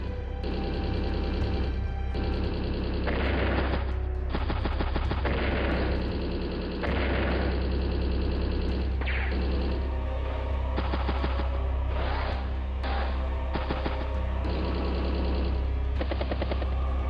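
Rapid machine-gun bursts and heavy gunfire from a battle in the video game Advance Wars: Days of Ruin, with a battlecopter attacking infantry, repeating in loud clustered volleys over a constant droning rumble, with no talk.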